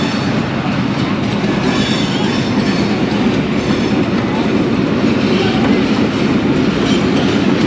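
Two ZCU 20 diesel locomotives, 6401 and 6402, haul a train along the Narowal branch line, a loud, close, continuous rumble of engines and rolling wheels with rail clatter throughout.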